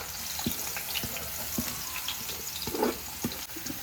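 Onions frying in a pan, with a steady hiss underneath and a few soft scrapes and taps from stirring; no talking.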